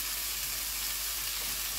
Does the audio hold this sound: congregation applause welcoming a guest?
no